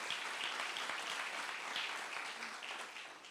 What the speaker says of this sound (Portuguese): Meu irmão, aplaude Jesus